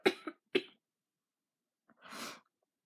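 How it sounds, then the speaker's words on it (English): Two sharp, close coughs in quick succession, a pause, then a longer harsh cough burst from a person with a coughing fit, in a quiet room. "I have coughing fits."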